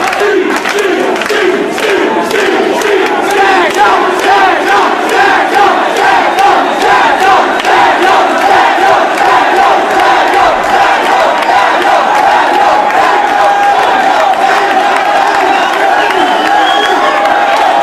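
Wrestling crowd at a Steen versus Daniels match roars and chants continuously, a dense, loud wall of cheering and shouting with rhythmic surges throughout.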